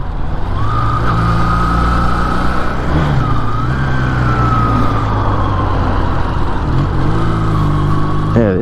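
A Braaap ST400 cafe racer/scrambler motorcycle engine drones loud and close at steady high revs while riding, its pitch holding, dipping briefly and rising again, with heavy wind rush throughout and no talking.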